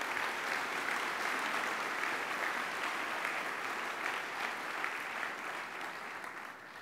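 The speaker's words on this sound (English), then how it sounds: "Let's give them all another round of applause." Sustained applause from a large dinner audience at a university speech event, a continuous dense roar of clapping at moderate distance that slowly eases off toward the end.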